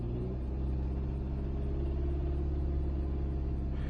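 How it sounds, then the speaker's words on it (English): A Hyundai or Kia Optima engine with a bad motor idles in a steady low rumble, a faint slight rattle carried in the drone, constant and close without any talk. "Tell me if y'all can hear this rattle. Slight rattle in the engine."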